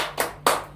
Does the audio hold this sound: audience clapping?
yes